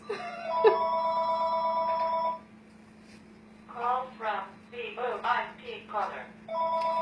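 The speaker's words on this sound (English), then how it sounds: "I'm just going to let my phone ring for a minute, my apologies" A mobile phone rings indoors with a repeating electronic tone, sounding in bursts at the start and again at the end, with a person speaking between the rings.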